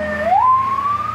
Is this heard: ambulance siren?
yes